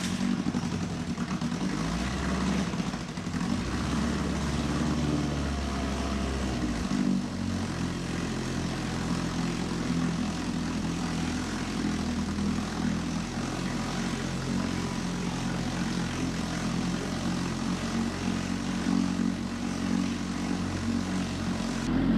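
A 1950s Johnson Seahorse 3 hp outboard motor runs steadily, its loud, continuous buzzing drone holding for over twenty seconds, with a slight shift in pitch early on and no talking.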